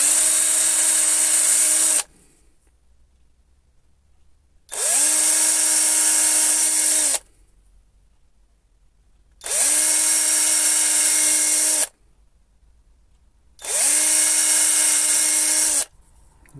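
A power drill bores into a wooden snowman Christmas decoration in four separate bursts of about two to three seconds each, a loud high whine with quiet gaps between them.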